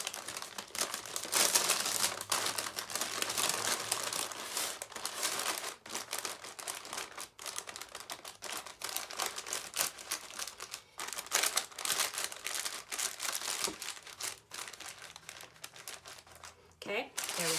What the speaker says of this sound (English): wrap it in parchment paper